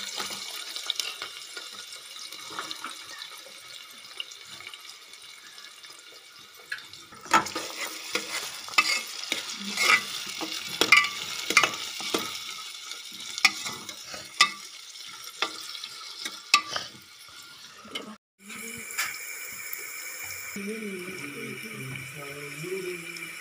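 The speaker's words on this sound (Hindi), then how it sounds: "अब डालते हैं ओनियन।" Onions hitting hot oil already holding spices and garlic, a loud sizzle and stirring clatter that swells midway, with running water and a voice heard briefly near the end.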